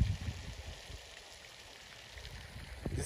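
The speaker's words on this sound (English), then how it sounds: "This is a waterfall." Constant rushing water, a soft broadband wash like a waterfall heard at moderate distance, steady throughout.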